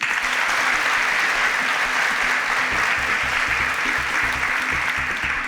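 Steady applause from a crowd fills the whole stretch, a dense, even patter of many hands clapping without pause.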